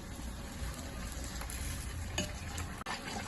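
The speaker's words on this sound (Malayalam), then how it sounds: "ഇത് പൊരിക്കുമ്പോ നമ്മൾ വിട്ടുകൊണ്ട് പൊരിക്കേണ്ട" Food fries in hot oil with a dense, steady sizzle and a few clinks of a utensil stirring; no voices.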